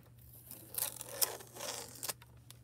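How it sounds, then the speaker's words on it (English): Sticky tape peeled off a Cricut Joy foil transfer sheet, a few soft crackling rips and crinkles spread over a couple of seconds, close and quiet with no talking. "now I'm going to take this tape off"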